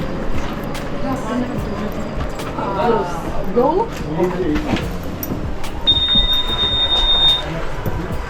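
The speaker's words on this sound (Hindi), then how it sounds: "तो ये ट्रेन देख सकते हैं आप।" A passenger train on the Georgia to Armenia route rolls along the rails with a steady loud rumble, faint clatter and a brief thin wheel squeal, heard from inside a carriage with voices speaking over it.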